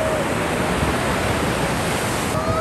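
Sea waves at a beach in La Union wash in as a steady, close rushing roar of surf that stays continuous without a break.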